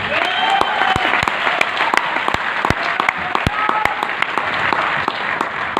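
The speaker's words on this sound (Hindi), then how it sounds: "आप ताली बजाएं या ना बजाएं इससे कोई फर्क नहीं पड़ता है।" An audience at a network-marketing seminar applauds, sharp individual claps clearly audible over a dense, steady wash of clapping that holds at a fairly loud level throughout.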